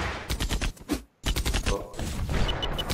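Loud, close gunfire crackles in rapid bursts during an ev.io first-person shooter match, with quick repeated shots, a brief pause, then more sustained firing.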